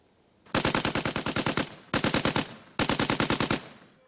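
Three rapid bursts of automatic gunfire inside the tunnels of a military pillbox near Kyiv, each a quick string of loud sharp shots, with a short ringing tail after the last burst.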